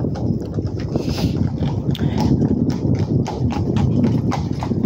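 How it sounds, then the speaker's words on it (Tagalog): A horse walking near a church in Germany, hooves clip-clopping in a steady, close rhythm of repeated sharp knocks over a low background rumble. "Kabayo."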